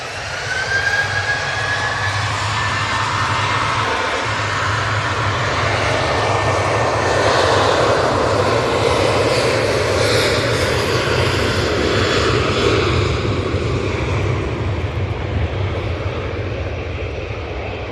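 Airliner on approach to a runway, a loud sustained engine roar and rushing whine that swells slightly and holds steady, heard outdoors without voices.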